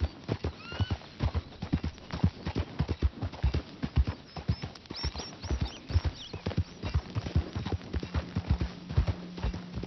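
A horse gallops in Red Dead Redemption 2, its hooves pounding in a fast, steady rhythm up close, with a brief whinny and jingling tack partway through.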